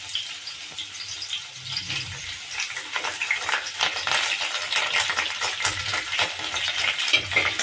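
Green chillies, onion and curry leaves frying in a pan, giving a steady close sizzle and crackle with occasional stirring scrapes, continuous throughout without talk.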